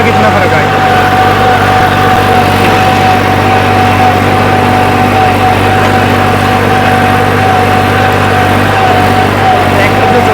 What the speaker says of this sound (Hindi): ट्रैक्टर जो चल रहा है ना दोस्तों